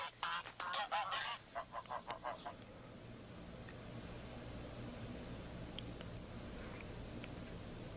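A greylag goose gives a run of loud honking calls, then goes quiet, leaving a steady outdoor hiss with a few faint distant sounds.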